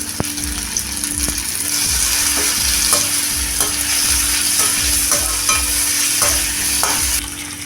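Chopped tomato and curry leaves sautéing in a pan for a drumstick stir-fry, steady sizzling under repeated scraping strokes of a spatula stirring the mixture in a regular rhythm.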